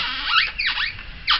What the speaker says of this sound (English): rolls with a little bit of a squeak.